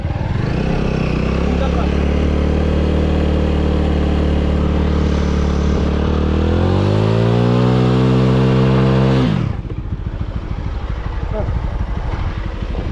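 A motorcycle at Digha beach starts and runs with a loud, steady idle close by, then revs up in pitch before cutting off abruptly, leaving wind and beach noise.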